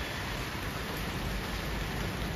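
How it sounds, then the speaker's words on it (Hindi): Heavy monsoon rain pours in a village, a steady, dense hiss that runs unbroken throughout with no talk over it. "बहुत ज़्यादा बरसात आ रही"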